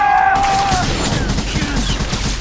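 Rapid gunfire rattles in a sci-fi video game battle, a loud, dense volley of repeated shots running the whole time beneath a brief shouted voice.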